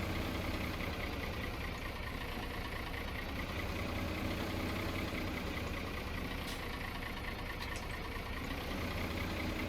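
A tractor engine idles steadily in Farming Simulator 17, a constant low mechanical hum running unbroken and fairly loud throughout, with no talk over it.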